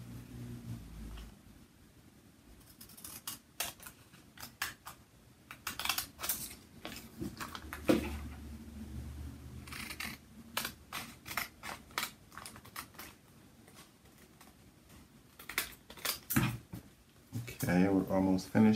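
Repeated crisp snips of scissors trimming t-shirt transfer paper around a printed design, coming in irregular bursts close by while a person talks at intervals.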